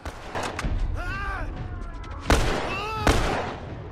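Gunshots in The Last of Us video game, two sharp loud cracks a moment apart with distant thuds before them, while voices call out in the background.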